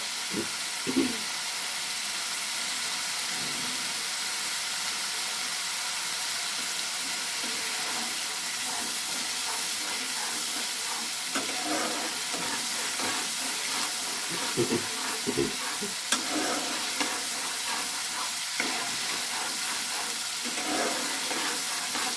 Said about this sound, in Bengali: পেঁয়াজটা ভালো করে ফ্রাই করে একটু হতে দিতে হবে।